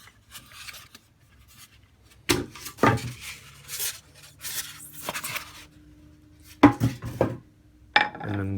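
A plate is set into a small Iris Ohyama microwave oven, giving several sharp ceramic clunks and scrapes at close range, separated by quiet handling noise.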